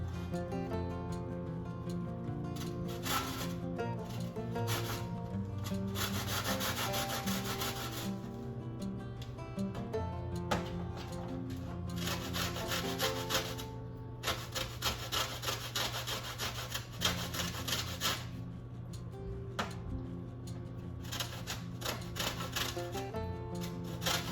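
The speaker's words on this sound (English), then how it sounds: "I'm gonna go ahead and zest the lime." A lime is zested in a home kitchen in rapid repeated scraping strokes, close and continuous in bursts with short pauses between them and no talking.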